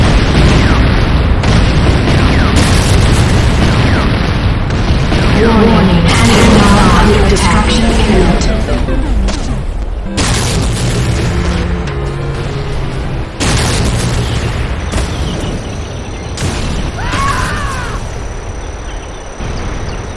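Heavy explosions rock the GDI weapons factory during an attack in the game Renegade, loud repeated booms and blasts layered over continuous battle noise, with an announcer-like voice speaking in between.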